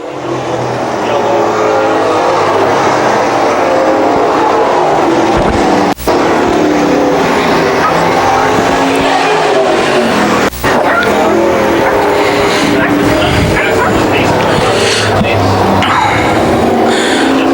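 Late model race cars roar continuously around the oval at Can-Am Speedway during a feature race, loud and close, with engines droning and tires squealing under the steady noise of the pack.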